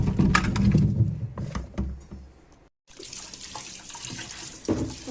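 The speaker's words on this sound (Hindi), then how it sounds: "तो यहाँ पे हम धो लेंगे टमाटर को अच्छे से" Running tap water splashes over tomatoes in a sink as they are washed, a steady close stream with a brief pause midway before the flow resumes.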